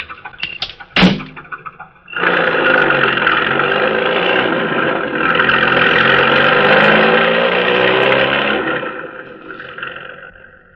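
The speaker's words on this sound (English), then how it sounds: "the driver re-enters the car and speeds away" A car door bangs shut, then an engine starts and roars as the car speeds away. The loud, sustained revving holds for several seconds before it fades.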